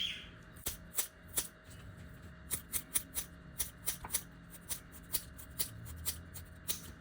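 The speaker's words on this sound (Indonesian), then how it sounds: "Kulit kundur gunting-gunting lalu dijemur kering." Scissors snip through thick winter melon peel at home, a series of sharp, crisp cuts repeating irregularly at close range, with a faint rustle between snips.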